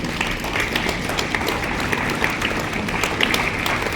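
A room full of people clapping at a block-level school science exhibition, steady and continuous, the hand claps blending into an even wash of applause.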